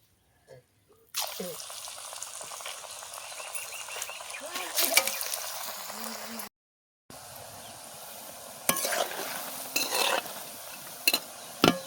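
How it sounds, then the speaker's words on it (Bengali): Piyaji onion fritters deep-fry in hot oil with a bright, crackling sizzle, broken by clinks and stirring scrapes and one brief silent gap before the frying resumes. "সবগুলো এইভাবে লাল লাল করে ভেজে নেব।"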